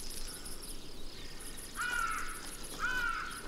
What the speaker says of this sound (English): Faced with the chick's insistent cries for more